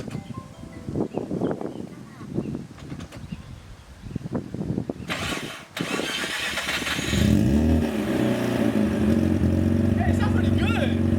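Mazda RX-7 FC streetport rotary engine running through a custom single-exit exhaust, starting after some talk and then idling and revving steadily and fairly loud, with voices over the top early on.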